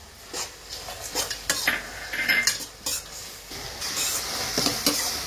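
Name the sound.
prawns and cashews sautéing and stirred in a pan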